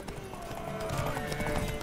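A horse in The Witcher 3 clip-clops along quickly during a race and gives a whinny, brief and moderately loud under game sound.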